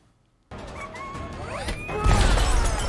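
Glass smashes in a scene from the film Iron Man 2: a sudden loud crash breaks the silence, followed by scattering shards and a heavier impact building toward the end.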